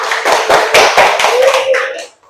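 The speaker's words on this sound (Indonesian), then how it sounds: "Beri tepuk tangan dulu." A school class clapping together for the first group of students, a short burst of rhythmic claps, loud and close, lasting about two seconds before stopping abruptly.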